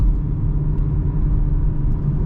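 A 2021 Toyota GR Supra 3.0 pulls hard from low revs, its engine a steady, deep rumble heard from inside the car, with no voices over it.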